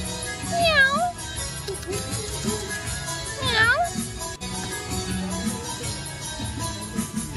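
A cat meows loudly twice, drawn-out rising and falling cries, with other voices and background sounds underneath.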